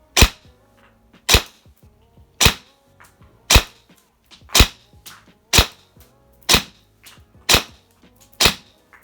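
An airsoft replica with a hop-up chamber fires shots through a chronograph: about nine sharp, loud cracks at an even pace roughly a second apart, each one standing alone with quiet gaps between.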